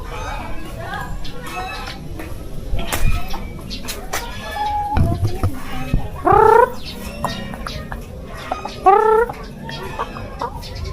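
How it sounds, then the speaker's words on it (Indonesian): Arab chickens cluck and call nearby, with a few louder squawks standing out, while a person talks over the birds throughout. "Ayam apa ini? Ayam Arab kan nih?"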